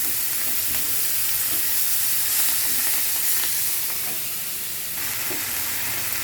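Ponnaganti leaves frying in a hot pan with turmeric and asafoetida, giving a steady loud sizzle and hiss that runs throughout, with faint stirring scrapes underneath.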